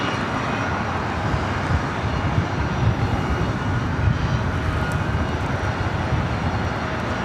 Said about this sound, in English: Delta Airlines flight 2041. It's a 737-900ER coming from Minneapolis